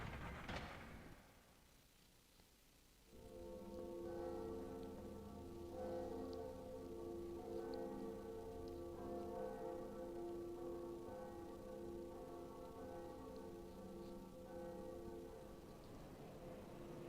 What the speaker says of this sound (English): We are going to pull this lever, and it's the lever to the second bell.